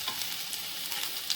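Chopped garlic and green chilli frying in two tablespoons of olive oil for veg Hakka noodles, a brief continuous close sizzle with faint stirring.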